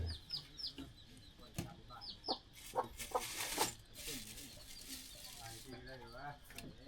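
A hen clucks repeatedly at close range in a rural Thai village, with short bursts of clucking over people talking nearby.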